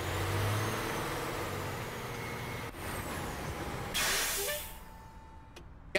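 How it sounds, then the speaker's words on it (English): Loud truck idling outside a recycling centre, a heavy low engine rumble with a sharp air-brake hiss bursting out near the end, then fading, with no voices. "There's a loud truck outside"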